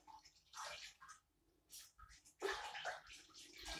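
A grout sponge is rinsed out in water while a shower floor is grouted and sealed, giving soft, close splashing and sloshing in short bursts, very faint overall.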